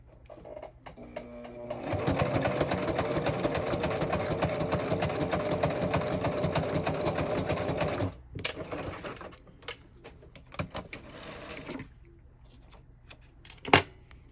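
Sewing machine stitching along the edge of a fabric wristlet, a dense rapid whirring run of about six seconds, close and steady, followed by scattered clicks, taps and fabric handling, then a sharp knock near the end.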